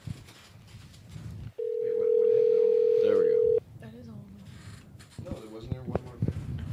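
A steady telephone tone sounds for about two seconds on an outgoing call, loud and continuous, with people talking in the background before and after it.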